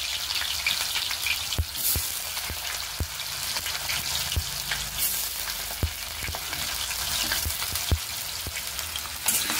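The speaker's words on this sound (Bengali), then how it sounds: "তেল গরম হয়ে গেছে, দিয়ে দিচ্ছি জিরে। এই যে এবার দিয়ে দিচ্ছি আলুটা।" Cumin and potatoes crackle and sizzle in hot oil, a dense, steady frying hiss up close, broken by sharp pops and spatters throughout.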